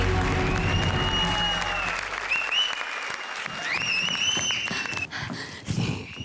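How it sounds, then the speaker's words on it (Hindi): Studio audience at a televised comedy show bursts into loud, dense applause mixed with cheering and whistles, sustained through most of the stretch, with music tones rising over it toward the end. "जोरदार तालियां"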